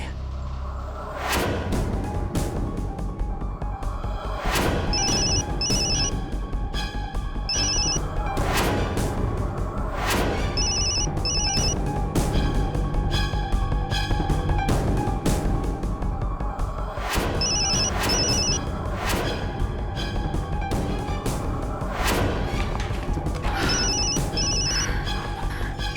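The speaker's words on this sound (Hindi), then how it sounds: "इतनी देर से फोन लगा रहा हूँ" A telephone rings in repeated paired electronic trills, each pair spaced a few seconds apart, going unanswered over dramatic background music with loud hits and swells.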